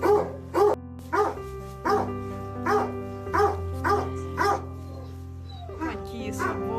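Small Moscow Watchdog puppies yelping and whimpering outdoors at dusk in a series of short, repeated high cries, fairly close, with people talking quietly over them.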